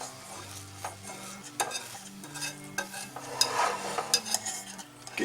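A spoon scrapes and swirls gravy around a pot of rice and gravy on a hot stove, with soft sizzling and occasional metal clinks. The steady, close stirring sits over a low tonal background.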